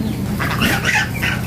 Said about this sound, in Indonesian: ada ayam kampung, ada ayam horen, ada ayam gundul